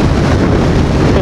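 Loud, constant wind buffeting the microphone on a Royal Enfield Super Meteor 650 cruiser motorcycle ridden at speed without a windshield, a dense steady roar with no pauses.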